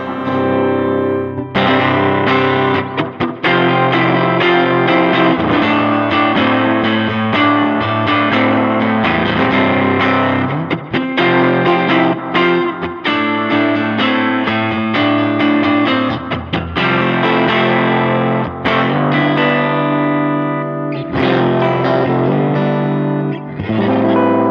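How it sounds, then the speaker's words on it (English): Electric guitar played through a Helix model of a vintage Fender Showman amp with its big 2x15 cabinet, loud and continuous with a distorted, effected tone, chords and runs ringing with no talking over them. "Here's the Showman big 215 cabinet, and has that 15y kind of sound."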